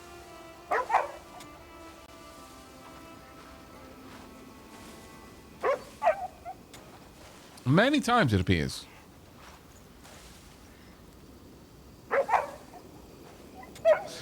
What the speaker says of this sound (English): How long will it let me pet the dog?